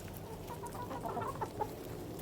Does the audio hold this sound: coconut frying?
no